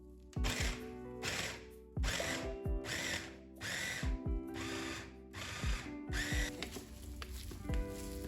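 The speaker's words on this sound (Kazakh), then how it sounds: "блендердің көмегімен барлығын езіп шығамыз" An electric blender mashing chopped chicken fillet for homemade chicken sausages runs in loud, repeated bursts about a second long, each separated by a brief pause, with a motor whine and the grinding of meat.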